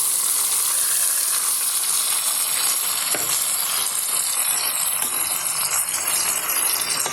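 Chicken pieces fry among browned onions in a homemade biryani pot, giving a steady, close, even hiss of sizzling oil with faint rattles and no voices.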